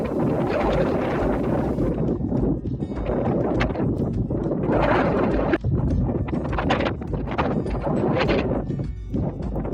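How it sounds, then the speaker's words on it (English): Strong gusts of wind buffet the microphone on an exposed height above a Scandinavian bay, a loud, continuous low roar that surges and dips in waves, with a brief sharp dropout partway through. "Did I mention it was windy?"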